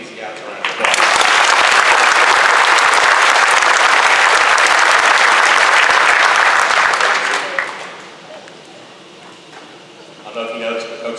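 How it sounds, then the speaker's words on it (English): A graduation audience gives a team a loud, dense round of applause lasting several seconds before it cuts off sharply, leaving quiet room noise and then a brief murmur of voices. "So let's give these guys a round of applause."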